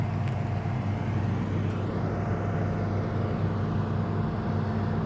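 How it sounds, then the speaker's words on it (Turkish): Steady traffic on a city ring road beside Karşıyaka Cemetery, a continuous low rumble of passing cars heard from a distance with no distinct pass-bys standing out. "Hayat akıyor, arabalar geçiyor çevre yolunun."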